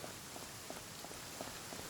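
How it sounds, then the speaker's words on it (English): Rain pours in Genshin Impact as a soft, even hiss, with faint regular footstep taps in the background. "Listen to that rain! It sounds amazing!"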